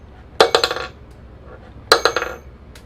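A solid metal ring tossed into a box lands twice, each time with a bright clatter and a few quick rattling bounces, close and alone.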